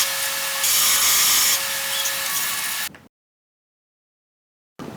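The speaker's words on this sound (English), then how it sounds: "This is a vertical bandsaw. I'm cutting the corners off on the thinner parts" Vertical bandsaw cutting corners off thin metal parts, a loud steady grinding hiss with a faint tonal whine for about three seconds, then abrupt silence before a brief return at the end.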